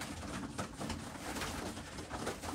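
Pigeons in a backyard loft give a soft, steady murmur of cooing that runs throughout, dense and continuous, with no voices over it.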